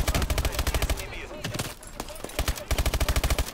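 Rapid bursts of automatic gunfire in a video game campaign, loud and close, with a short lull in the middle before the rattling fire resumes.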